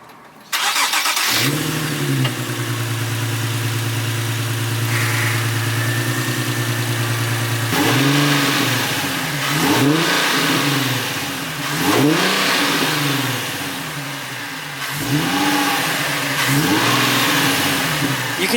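A Nissan 370Z fitted with a newly installed Z1 Motorsports long-tube intake cranks and fires, settles into a steady idle, then revs repeatedly in loud close bursts that rise and fall.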